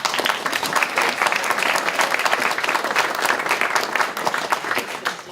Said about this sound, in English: What about a round of applause for them?